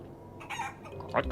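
Chicken clucks in the Guacamelee 2 video game, a few short nasal squawks with a louder burst near the end, set over low game ambience.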